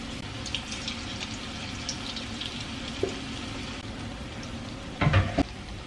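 Cabbage bajji, an onion vada made without onion, fries in hot oil with a steady, hissing sizzle throughout, and a louder burst of bubbling and clatter comes near the end as pieces are scooped out.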